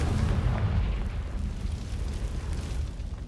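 A deep rumbling blast from the Confringo explosion spell in the video game Hogwarts Legacy, loud and sustained for a few seconds with no talking.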